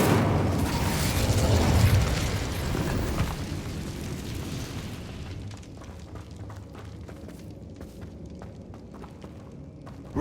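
An Incendio fire spell cast in Hogwarts Legacy gives a loud, roaring burst of flame and rumble for about three seconds, then fades into quieter crackling and scattered clicks.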